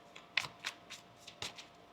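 Tarot cards being shuffled by hand, a quick series of soft riffling bursts in an irregular rhythm, close and quiet with no talking.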